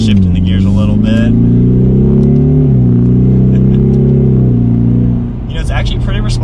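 A 2021 Ford Mustang EcoBoost accelerates from a stop, heard from inside the car. Its loud engine drone climbs in pitch, then drops at each of two quick gear shifts, with brief voices near the start and end.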